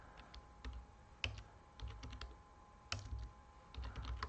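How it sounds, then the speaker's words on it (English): A computer keyboard is typed on in quick, irregular bursts of soft clicks and taps, faint and close, with short pauses between runs of keystrokes and no speech. "we have to type"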